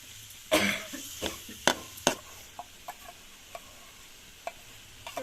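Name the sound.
stirring taro stalks with spices in a pan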